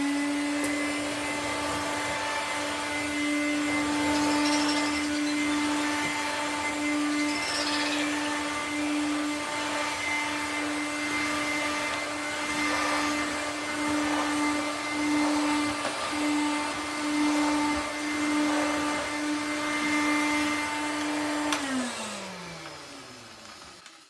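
A cordless 20-volt brushless Hoover Hooverette vacuum cleaner runs steadily as it sucks up sawdust. Its close, loud motor whine holds a constant pitch, then winds down and drops in pitch as it switches off near the end.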